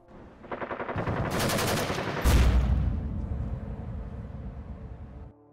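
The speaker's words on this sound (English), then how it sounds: "We press the trigger and magically, without warning, replica just shoots." A Perun airsoft AEG replica with a Clicker trigger unit fires one sustained burst, a close, loud mechanical rattle of rapid shots lasting a few seconds before it cuts off.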